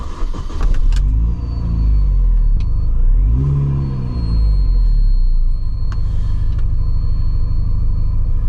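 Warm, idling car engine with an air leak on a Mini, a steady low rumble with a faint hiss and a few brief revs rising and falling, close and alone.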